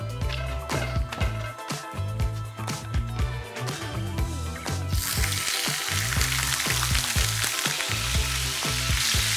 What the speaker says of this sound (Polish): Szynkę, zanim wrzucę na patelnię, muszę dokładnie wytrzeć, żeby olej nie pryskał po całej kuchni